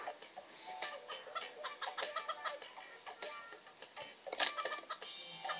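A chicken in the video game Turbo Dismount, quick repeated clucks in a steady rhythm, fairly faint and close, with no talking over it.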